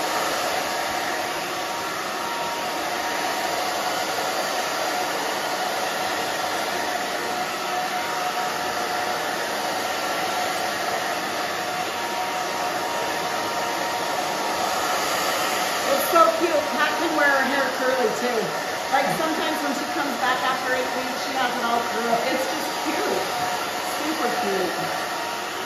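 A handheld hair dryer blows steadily close by while hair is blow-dried with a round brush for a short pixie cut with bangs, a constant loud whoosh with faint brushing and handling noises toward the end.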